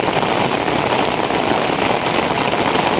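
Heavy rain falls hard and continuously, a thick, constant wash of noise that holds the same loud level from start to finish, with no speech.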